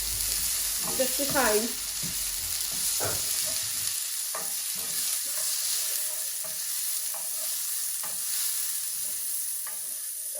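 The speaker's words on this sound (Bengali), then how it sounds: "তেলটা বেশি গরম হয়ে গেছে এখন আমি পেঁয়াজ দিলাম" Onion drops into overheated oil and fries with a steady, close sizzle, broken by scraping and clattering as it is stirred; a voice speaks briefly near the start.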